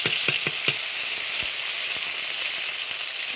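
Chili paste hits hot oil with cumin in a village kitchen, giving a steady loud sizzle and frying hiss, with a few soft stirring clicks near the start.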